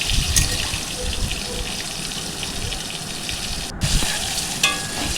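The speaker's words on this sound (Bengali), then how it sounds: "আমি ডিমগুলোকে একে একে দিয়ে ভালো করে লাল লাল করে ভেজে নেব" Eggs frying in oil in a pan for a Bengali egg curry make a steady, close, crackling sizzle throughout, with a few brief louder spatters.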